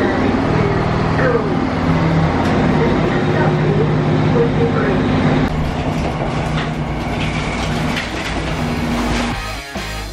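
Inside a Class 152 train on the Leeds to Goole parliamentary service, a steady loud rumble of the moving carriage with rhythmic rail clatter fills the whole stretch, easing slightly near the end.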